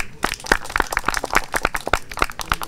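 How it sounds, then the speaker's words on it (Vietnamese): A military platoon claps in a burst of applause, many hands striking irregularly and close by for a few seconds with no voices over it. "Đề nghị chúng ta cho một tràng pháo tay."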